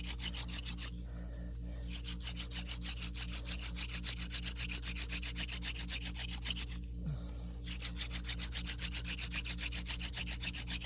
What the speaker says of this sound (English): The thing about hand drill I've noticed too, when you start getting super deep with the drill,